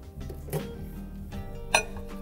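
A dish set into an Orient Micro Chef microwave oven gives a couple of faint clinks and knocks of crockery against the oven interior, with a steady low hum underneath.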